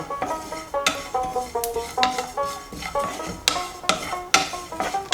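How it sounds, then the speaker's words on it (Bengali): About two tablespoons of cumin seeds are dry roasted in a pan with no oil, stirred with a utensil that scrapes and clinks against the metal in a steady rhythm, close up and without talk. "দু টেবিল চামচ মতো জিরে দিচ্ছি এটাকে শুকনো খোলায় ভাজব"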